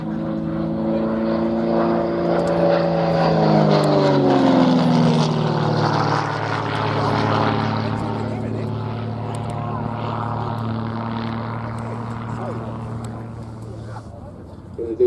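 A propeller aerobatic aeroplane performs at an airshow, its engine droning loudly with pitch sweeping down as it climbs and slows, then a steady roar fading slightly at the end.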